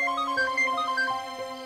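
A phone ringtone plays a bright repeating electronic melody of short tonal notes over a steady hum, clear and unaccompanied.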